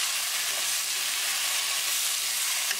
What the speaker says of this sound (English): Now add tomato. Mix it well.